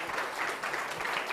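Steady audience clapping fills a room at a panel discussion on innovation and startup ecosystems, a dense, even patter with no voices over it.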